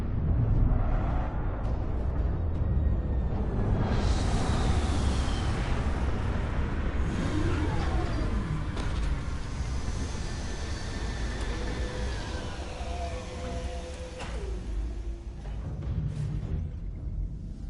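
A spaceship landing in the video game Starfield: a loud, continuous engine rumble and roar with sweeping tonal whines, close and sustained throughout.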